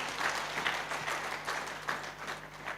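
A church congregation bursts into applause during a worship service, a sustained crowd clapping with rhythmic surges, fairly close and full, without speech over it.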